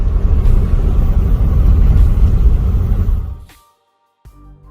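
Car driving with a frozen back wheel, a loud heavy low rumble grinding along for about three seconds, then fading abruptly into silence before a faint rumble returns briefly at the end.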